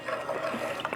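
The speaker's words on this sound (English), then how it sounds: "we're just gonna go ahead and stir this around and make sure this becomes one little mixture." A spoon stirs a heavy cream mixture in a pot on the stove for cheese grits, making a soft, steady swishing with small liquid clicks near the end.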